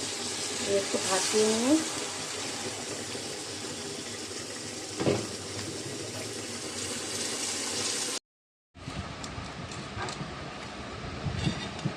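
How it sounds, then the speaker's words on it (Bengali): A little water goes into a hot pan of vegetables seasoned with salt and turmeric, raising a steady, loud broadband hiss that cuts out briefly near the end, while a voice speaks over it. "একটু অল্প জল দিয়ে দেবো পরিমাণ মতো।"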